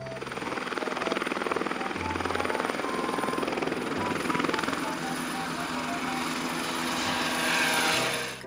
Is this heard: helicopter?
yes